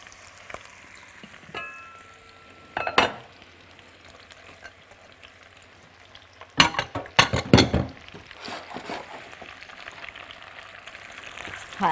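Onion frying in hot oil for a stewed meat and onion casserole, a low steady sizzle with a few louder stirring bursts around the middle, close and moderately quiet, no voices.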